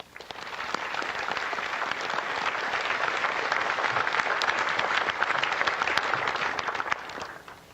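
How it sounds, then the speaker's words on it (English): Steady applause from the audience at a Pearl Harbor Remembrance Day ceremony, an even, full-bodied wash of many hands clapping that swells slightly and then tapers at the end, with no voices over it. "A round of applause for them."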